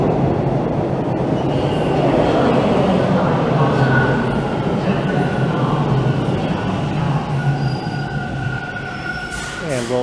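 A Toronto TTC Line 2 subway train pulls into a station, with a loud steady rumble, wheel squeal and a rising whine toward the end, heard close on the platform.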